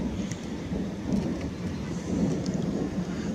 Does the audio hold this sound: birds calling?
no